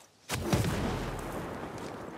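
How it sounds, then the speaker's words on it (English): A mortar round fires and bursts in a video game, a sharp blast followed by a broad, sustained rumble of explosive noise that lingers at close range. "That's a mortar."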